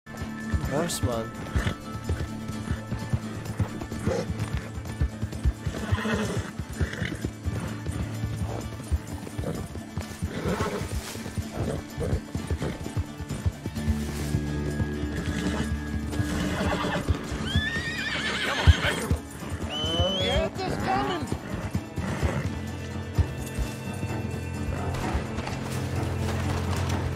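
A horse in Red Dead Redemption 2 neighs and whinnies several times amid galloping hooves, clattering game sounds and frequent talk, fairly close and busy throughout.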